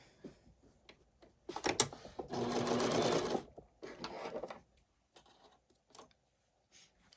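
Sewing machine stitching a welding cap seam, running in a steady burst of rapid mechanical whirring for over a second, with softer starts, stops and handling clicks around it, close by and without talk.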